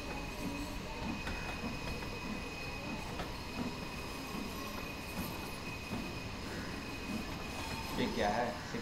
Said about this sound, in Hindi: और हमारा जो ट्रेन है 4 के रफ्तार पे जा रहा है, 4 माइल्स के रफ्तार पे।